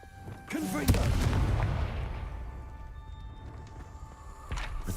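Fiery Confringo blasting spells explode in the Hogwarts Legacy video game. A sharp, loud boom with a rumbling tail is followed by a second blast near the end, and a brief voice comes just before the first.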